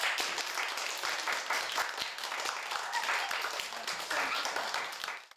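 Boys in a classroom clapping for the girls after a software maze game, a dense burst of applause lasting several seconds before cutting off abruptly, with voices mixed in.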